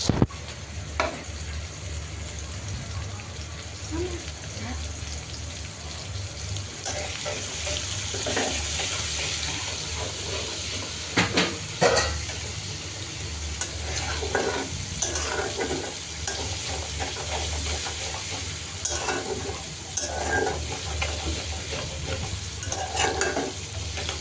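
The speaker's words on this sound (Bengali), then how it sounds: "এই তো দিয়ে দিলাম পেঁয়াজ আর রসুন কুচি" Chopped onion, garlic and dried chili fry in oil with a steady sizzle, while a utensil scrapes and stirs the pan at intervals, close up, with the sound of running water at times.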